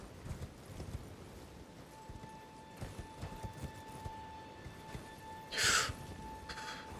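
Horse hooves clip-clopping in a game, faint steady footfalls under a soft hum, with a short breathy gasp-like burst near the end.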